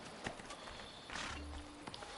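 Horse hooves clip-clop in the Assassin's Creed Brotherhood video game, a few quick hoof thuds amid faint game ambience, brief and fairly quiet.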